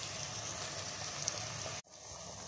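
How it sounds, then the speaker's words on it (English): Ground masala paste sizzles and fries steadily in a hot pan for a Mughlai egg masala, a dense continuous crackle that cuts off abruptly near the end, then resumes more softly. "Now add the grinded masala in it."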